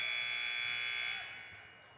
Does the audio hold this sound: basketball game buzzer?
yes